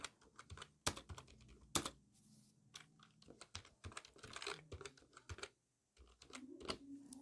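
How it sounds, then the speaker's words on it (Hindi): Keystrokes on a computer keyboard as a company name is typed into an Excel invoice, a quick irregular run of clicks with brief pauses and a few sharper key hits, close and clear with no talking. "तो हम यहाँ पे कंपनी का नाम टाइप कर देते हैं"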